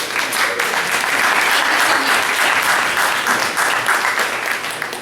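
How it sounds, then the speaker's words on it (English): Steady applause from a sizable audience at a World IA Day event, dense and continuous clapping that holds at full strength throughout before easing slightly at the end. "So give them a big round of applause."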